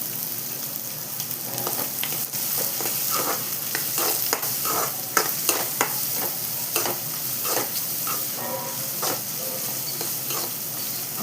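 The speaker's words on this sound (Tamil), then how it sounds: "இந்த வெங்காயம் கொஞ்சம் நல்லா வதங்கி வரணுமா" Chopped onions sizzle and fry in hot oil in a pan for a spicy Thanjai-style mutton masala, a steady close crackle broken by repeated clinks and scrapes of stirring, with no talking.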